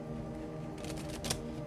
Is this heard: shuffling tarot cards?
yes